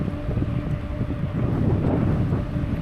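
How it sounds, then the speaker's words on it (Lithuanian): Strong, suddenly risen wind roars and buffets in a dense, low rumble in Malta, gusting steadily without letup. "Žiauriai staigiai vėjas pakylo."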